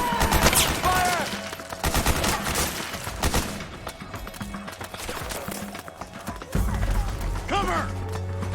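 Gunfire crackles through a tense firefight in Metal Gear Solid 4, with rapid shots and mechanical clatter layered under shouted voices and music.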